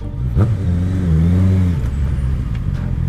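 Car driving along a Bangkok street, its engine revving up in a rising whir and holding a loud, close drone that settles back down over a few seconds.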